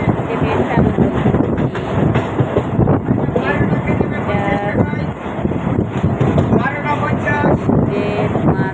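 Rail travel between Barasat and Nazat, heard from on board as a loud, continuous rumble and clatter of the moving train with wind buffeting the microphone, while people talk over it.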